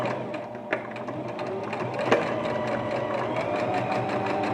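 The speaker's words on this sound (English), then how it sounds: "So if we go over to the sewing machine, we're going to do a straight line" Sewing machine stitching a straight seam on a fabric face mask, a steady rapid mechanical whir with rhythmic needle ticks, close and continuous with a couple of brief clicks.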